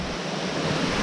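Steady broadband rushing of water pouring down the Saarfall waterfall, a constant close roar with no pauses and no voices.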